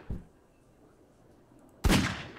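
A .357 Magnum fired in Garry's Mod: a faint low thump at the start, then one loud, sharp, broadband gunshot blast near the end with a lingering tail, no talk.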